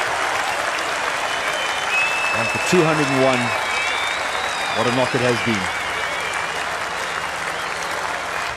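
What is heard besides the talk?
cricket crowd applauding Hashim Amla walking off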